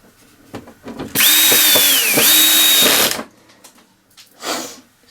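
A cordless drill set to its lowest torque drives plastic screws into a Hayter 41 lawnmower front axle, giving one close, loud whirring run of about two seconds with a pitch that dips and recovers, surrounded by handling clatter.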